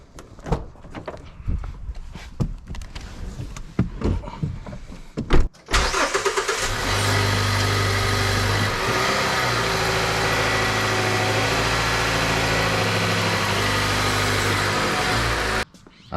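A 2014 Mazda 3 is readied to drive up onto ramps: a few clunks and door sounds come first, then the engine starts and runs at a steady, fairly loud hum and idle for about ten seconds before stopping.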